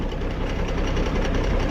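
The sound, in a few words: tractor engine running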